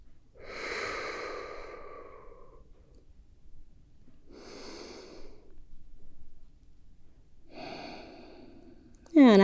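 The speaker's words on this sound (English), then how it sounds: "Take 3 more rounds on your own, nice long even breaths." Slow, even yoga breathing, with three long, unhurried breaths spaced a few seconds apart in a quiet room, followed by a short, sharp click at the very end.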